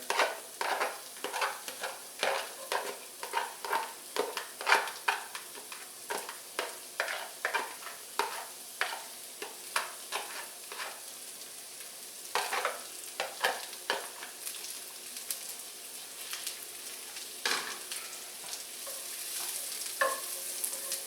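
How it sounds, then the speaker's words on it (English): Vidalia onion and bacon sizzle in a pan with a steady hiss, punctuated by repeated scraping and stirring clicks. "That'll get things sizzling."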